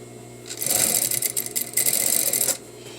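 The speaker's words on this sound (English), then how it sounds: "I'm going to be stitching right here, close to the original seam, not the raw edge" Sewing machine running a facing seam on a garment: a short, close burst of rapid mechanical stitching, about two seconds long, with a rattling rhythm and quiet before and after.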